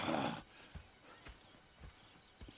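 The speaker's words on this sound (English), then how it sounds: "Go check the horses are ready." Horses in Red Dead Redemption 2: a short neigh-like burst up front, then a few faint, spaced hoof thuds at a slow walking pace, quiet and without talk.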